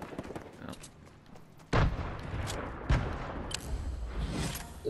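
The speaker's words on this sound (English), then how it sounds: "they're shooting at the building" Distant gunshots hitting a building in the video game Fortnite, a few sharp cracks and thuds spaced over several seconds above a faint, steady background.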